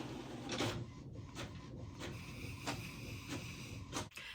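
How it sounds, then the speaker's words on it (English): Home printer printing a document, a mechanical whirring with repeated rhythmic feed strokes and clicks at close range, running steadily with a brief sharp clunk near the end. "my printer is going off"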